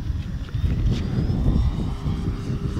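An E-Flite Turbo Timber Evolution 1.5m RC plane flies outdoors on a windy day, its electric motor droning steadily with wind buffeting throughout, and no one speaking.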